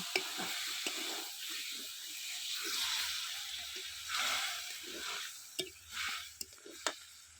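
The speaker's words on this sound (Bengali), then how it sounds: "একটু জল দিয়ে আলুটা ভালো করে কষিয়ে নেব" Potatoes sautéed with a splash of water in a pan for a thin bata fish curry with ground cumin give off a steady, soft wet sizzle with faint squishy stirring and a few sharper spatters near the end.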